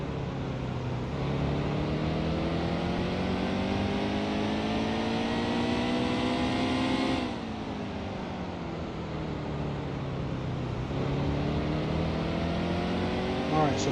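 A NASCAR Heat 2 race car engine at Martinsville drones steadily through the gears, rising in pitch, dropping at a shift or corner, then climbing again, with someone talking throughout.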